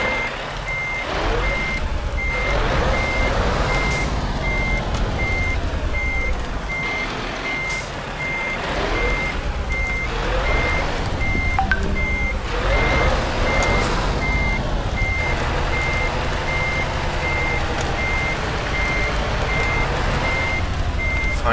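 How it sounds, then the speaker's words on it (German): A truck in Euro Truck Simulator reverses with its backup alarm beeping in an even repeating pattern, loud and steady over the rumbling engine throughout. "Fahren hier einfach mal"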